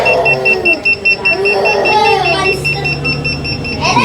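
A Snadi 1 kW hybrid off-grid inverter sounds its low-voltage battery alarm, a loud, close series of evenly pulsed electronic beeps repeating steadily over a background hum, with some talk in the room.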